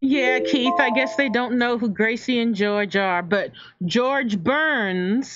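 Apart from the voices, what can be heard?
No everyday noise stands out behind the speech.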